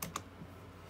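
A couple of quick keyboard key taps close together near the start, typing a short command into a game's developer console, followed by quiet room tone.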